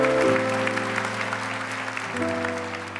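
A church congregation applauds during a worship service, a broad even wash of clapping over a sustained organ or keyboard chord, fading slightly toward the end.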